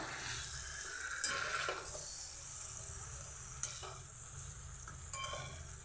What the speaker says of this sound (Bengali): আলুগুলোকে নিয়ে এবার নাড়াচাড়া করে নেবো একটু কিছুক্ষণের জন্য আলুগুলোর সঙ্গে মাংসটাকে ভালোভাবে কষিয়ে নেবো